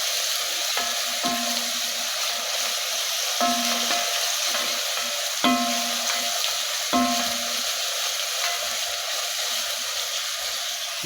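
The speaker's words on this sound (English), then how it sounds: "Continue to make the sauce, the spaghetti sauce. Stir that." Spaghetti sauce with onion is stirred in a pan over a constant sizzling hiss, with a spoon knocking and scraping the pan in a few short bursts, and no one speaking.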